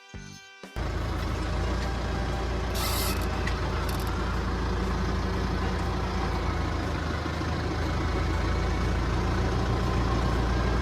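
Diesel farm tractor engine starts with a short burst and then runs steadily and loudly in a farmyard, a constant near rumble with no speech over it.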